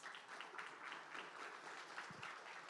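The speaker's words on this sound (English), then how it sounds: "Let's give all of our panelists a round of applause" Quiet, steady applause from an audience honoring youth panelists, a soft even patter of many hands lasting the whole moment, fairly distant and low in level.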